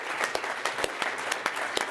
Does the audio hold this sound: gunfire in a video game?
no